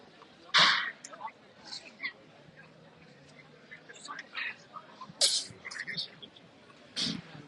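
One sharp, loud sneeze bursts out early during an evening tour of a cheese market, followed by quieter, softly spoken talk and murmuring from people nearby.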